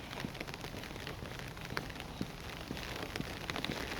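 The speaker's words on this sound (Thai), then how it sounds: "ฝนเนาะ" Rain falls in a city in Bergen, Norway, faint and steady, with scattered drops pattering on nearby surfaces and no voices.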